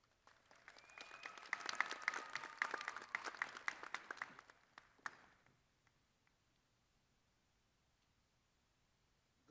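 Applause from the audience for graduates at a winter commencement ceremony, a sustained crowd of clapping that builds for a few seconds, then fades out into quiet hall ambience.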